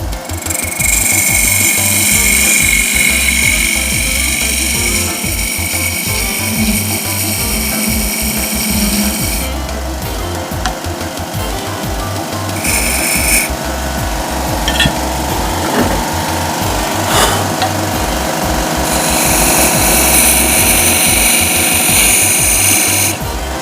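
A wood lathe turns a tenon on the end of a sacrificial glue block. The tool cuts with a loud, continuous scraping chatter over the motor's hum, and the cutting pauses briefly at intervals.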